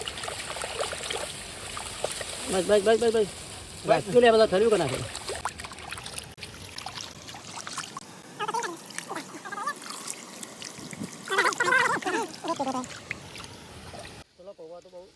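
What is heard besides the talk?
pouring water to wash flattened rice (poha)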